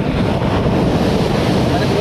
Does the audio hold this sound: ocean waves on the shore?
yes